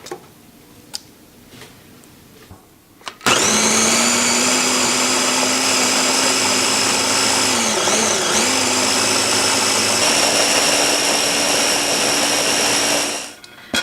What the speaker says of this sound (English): Now add the roasted veggies to your blender. Give it a few whirls till everything's nice and chopped.